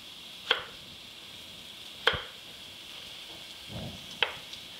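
Three evenly spaced, sharp knife chops coarsely cut a zucchini on a board, crisp close thuds about every second and a half with quiet pauses between them.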